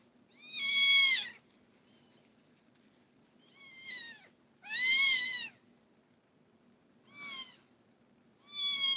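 A cat meows indoors: five harmonic meows, two long and loud, three shorter and softer, spaced apart with silence between them.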